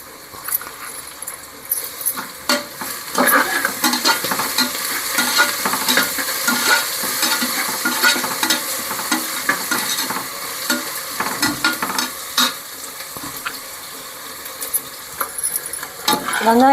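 Onions sizzling in a pan with mint and coriander leaves for pudina rice, stirred steadily with a spoon that scrapes and clinks throughout, close and fairly loud with no voices.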